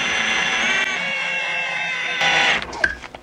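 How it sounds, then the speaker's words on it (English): A power drill spins a length of 0.04 inch stainless steel wire clamped in its chuck, twisting it into a lure eye for a wooden crankbait; a steady, close motor whine runs for about two and a half seconds, then winds down and stops. "I'm just gonna stick it in the chuck of my drill here"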